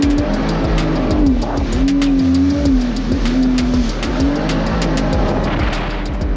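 A jet ski engine runs on the Nemunas river, a steady loud motor drone with a wavering pitch that rises and falls, continuous throughout with no talking.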